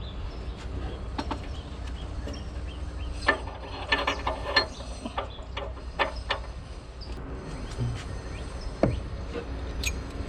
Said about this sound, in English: So next we're going to wrench this part out.